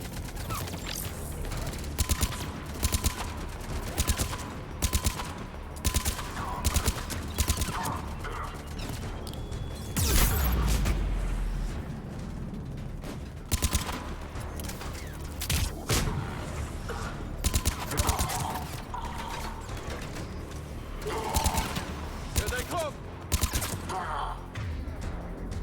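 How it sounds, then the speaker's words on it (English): Gunfire in the video game Mass Effect 3: dense rapid bursts and crackling volleys crowd a busy, steady stream of combat noise, with a heavier impact near the middle. "Somebody's shooting at us."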